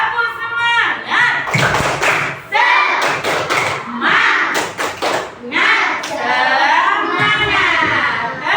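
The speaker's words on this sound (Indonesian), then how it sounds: "Tepuk semangat" Children in a classroom do a rhythmic spirit clap (tepuk semangat), a few sharp bursts of hand claps and thumps under loud, steady children's and teacher's voices.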